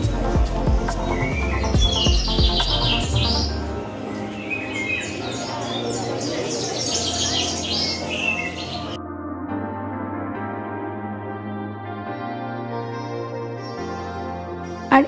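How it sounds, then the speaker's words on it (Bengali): Birds chirp steadily inside a decorated Durga Puja pandal, bright tweets running throughout over a busy background with music and crowd noise. "এই প্যান্ডেলটার ভিতরে দেখো কি সুন্দর পাখির ডাক"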